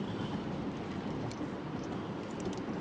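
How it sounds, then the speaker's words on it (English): Train rumbling along railway tracks beside a dark, unmarked street at night, a steady, dense roar with faint clanks near the top, heard alone without talk. "Train tracks."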